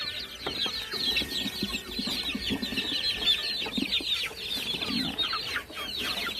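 Chickens cluck steadily on a farm while feeding on red meat, a dense, continuous chatter of many birds close by with no voices.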